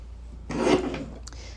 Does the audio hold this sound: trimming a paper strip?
yes